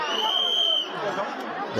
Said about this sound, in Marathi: तीर्थाकडे भरपूर प्रमाणात गर्दी आहे